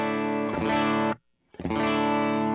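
Two sustained electric guitar chords ring out through a Tonex amp model, distorted and chorused, each held about a second with a short silent gap between them.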